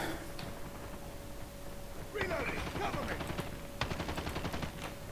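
Gunfire from the Call of Duty Mobile video game, with bursts of rapid automatic shots in the second half, loud and close, against a steady background tone and game noise.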